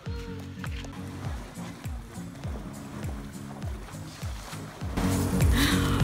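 An elephant splashes and sloshes in water at an elephant sanctuary in Chiang Mai, Thailand, with rhythmic repeated surges of water roughly every half second, close and fairly loud, turning into a louder burst of splashing near the end.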